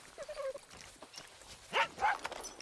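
A dog in the video game Far Cry 6 gives a few short barks and yips, a faint whine early on, then two sharper barks close together near the end, quiet overall.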